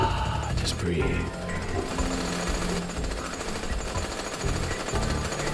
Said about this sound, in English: You're gonna have to get used to the sound of these jackhammers